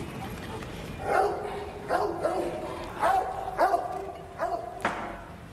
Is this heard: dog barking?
yes